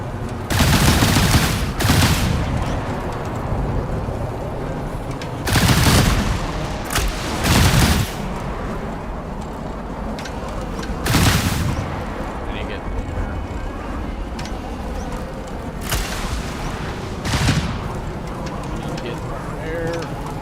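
Video game missiles launch and burst in repeated heavy booms, loud and close, spaced every few seconds over a steady rumbling engine-like backdrop, with a player talking between the blasts.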